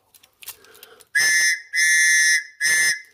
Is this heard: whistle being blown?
yes